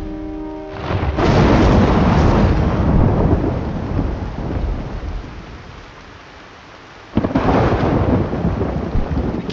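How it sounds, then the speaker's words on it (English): Heavy rain pours steadily in a World War II real-time strategy battle in Sudden Strike 4, with loud rolling thunder rumbling near the start and another sharp crack of thunder bursting in near the end, no voices. "I can't see anything in this rain."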